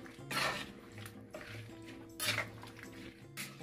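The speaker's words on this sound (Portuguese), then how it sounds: "Vou dar uma mexida." A spoon stirs papaya pieces, refined sugar and water in a cooking pot, giving three or four short scraping, sloshing bursts over a low steady kitchen hum.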